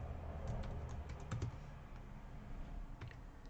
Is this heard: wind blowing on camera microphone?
no